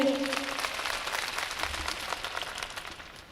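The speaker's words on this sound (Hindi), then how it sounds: "पूरे मुशायरा कमेटी के लिए एक बार जोरदार तालियां बजा दीजिए" An outdoor mushaira audience in Kannauj gives a steady round of applause for the organizing committee, a broad, even wash of many hands clapping heard from a distance at moderate volume.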